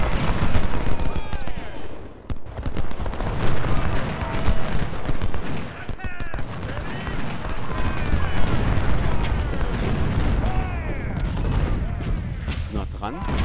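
Dense musket volleys and cannon booms from an American Civil War battle in Ultimate General: Civil War, loud and continuous with rolling crackling gunfire and heavy blasts, overlapped by excited talk.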